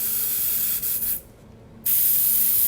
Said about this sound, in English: I'm going to spray a little burst of darkness up in the nostrils.